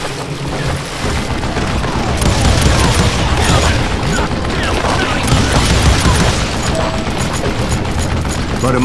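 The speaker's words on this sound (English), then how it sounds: "a fusillade of bullets come raining down from on high" Heavy gunfire fusillade in the Western shooter game Call of Juarez: Gunslinger, a dense, continuous barrage of shots and booming impacts that stays loud and full throughout with no speech.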